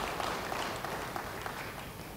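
A congregation at a church service applauds in a steady, dense wash of clapping that holds at an even level throughout, heard from a distance with no one speaking.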